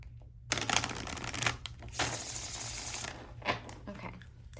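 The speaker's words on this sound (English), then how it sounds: "give it one more good shuffle." Tarot cards being shuffled by hand, a dense papery riffling and flicking that comes in quick bursts after a brief silence, close and fairly quiet.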